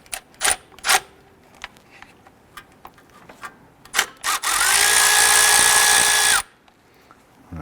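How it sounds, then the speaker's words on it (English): A 10mm bolt being loosened and removed while replacing the drive belt on a 2012-2017 Toyota Camry: scattered clicks and knocks of tool work, then a loud, steady two-second whir of a power tool spinning it out. "there's a 10mm bolt right here. Let's go ahead and loosen and remove that"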